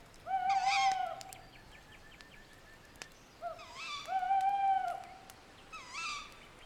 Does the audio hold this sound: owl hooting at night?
yes